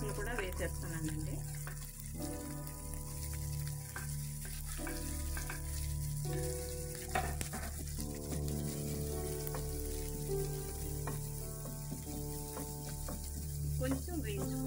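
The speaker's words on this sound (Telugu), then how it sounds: "క్యాప్సికమ్ ముక్కలు కూడా వేసేస్తున్నానండి." Capsicum pieces and green chillies sizzle and fry steadily in a hot pan, a continuous close crackle with occasional stirring, with no talk over it.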